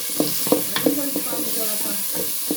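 Carrots drop into a hot pan and get stir-fried, with several sharp clattering scrapes of a spoon over a bright, steady sizzle close by.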